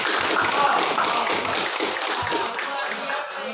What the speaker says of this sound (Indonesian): Oke, kita kasih aplaus dulu.